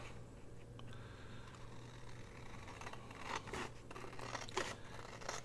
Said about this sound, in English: Okay, we're going to trim this off.